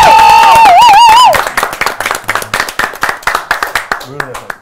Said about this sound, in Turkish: Burak Kuzum'a da bir alkış istiyorum